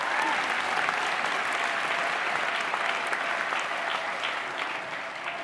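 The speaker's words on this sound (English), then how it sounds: "yes, applause" Sustained applause from a graduation ceremony audience at the University of Salford, a dense, even clatter of many hands clapping throughout, easing slightly toward the end.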